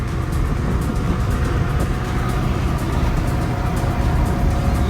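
A Toyota AE86 with a 4A-GE 20V engine runs along a rural American country road, giving a steady, loud engine and road drone that fills the whole stretch without a break or any talk.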